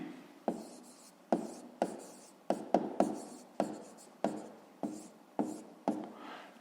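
Pen strokes on paper while a math exercise answer is written out, about a dozen distinct scratchy strokes in irregular rhythm, close and quiet, with no talk.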